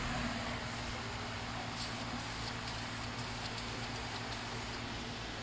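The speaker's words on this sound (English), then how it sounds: "just doing a little rejuvenation spray" A steady hiss of rejuvenation spray being applied to a junkyard radiator for a Fox-body Mustang runs through the whole stretch, with a few short bursts near the end over a low background hum.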